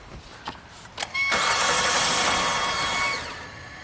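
A Hyundai car's engine starts after a couple of faint clicks, the starter whirring briefly before the engine catches and settles into a steady, fairly loud run that eases slightly near the end.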